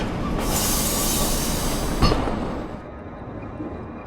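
A metro train rumbles and slows into a station at night, wheels hissing and squealing along the rails, with a sharp squeal midway before the noise tapers off.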